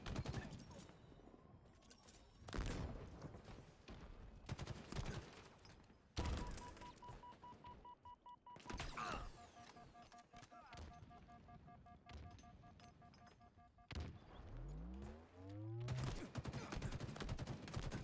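Gunfire in Halo during an esports team practice match, with rapid bursts of shots and blasts in quick succession amid game effects and tones, with voices talking over parts.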